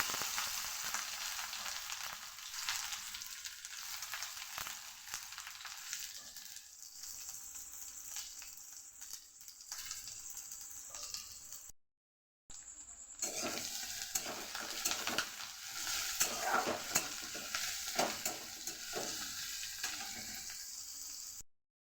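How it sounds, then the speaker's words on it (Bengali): Continuous oily sizzling as chopped onions fry with dried red chillies in a hot pan, with occasional stirring scrapes; brief silence near the middle before the frying resumes. "শুকনো লঙ্কা ভাজা হয়ে গেছে, এর মধ্যে দিয়ে দেব কুচিয়ে রাখা পেঁয়াজ"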